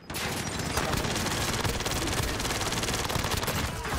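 Rapid, continuous automatic fire from a Mac-10 submachine gun in a shooter video game, a dense, loud, unbroken stream of shots lasting about four seconds.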